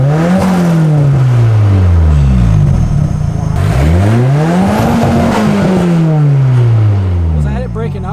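A Nissan SR20DET engine revs hard up to its rev limiter in a garage, loud and close, climbing and falling in repeated sweeping surges with a raspy, breaking-up edge at the top.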